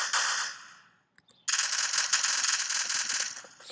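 Rapid automatic gunfire from a Minecraft guns mod in a multiplayer game, a loud sustained rattling burst, a brief gap, then a longer continuous volley of shots.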